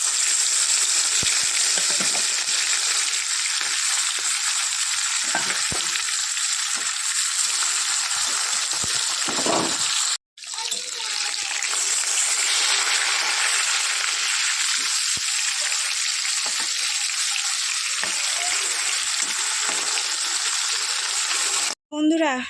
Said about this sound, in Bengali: তেল গরম হয়ে গেছে মাছ দিয়ে আজকে মাছ ভাজা করবো